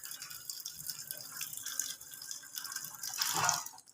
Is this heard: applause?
no